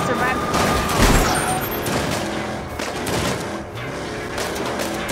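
Rapid gunfire erupts during a shootout with police in the Saints Row video game, dense bursts of shots layered over a loud, busy game mix.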